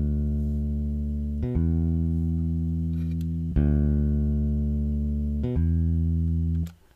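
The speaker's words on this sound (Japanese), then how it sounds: "ベースのグルーブどんな感じかなっていうのですけれども" EZkeys 2 plays back a bass groove, loud sustained low notes changing pitch every couple of seconds with sharp note attacks, ending in a quick fade.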